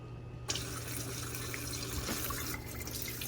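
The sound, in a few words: pouring tomato seed mixture into strainer at kitchen sink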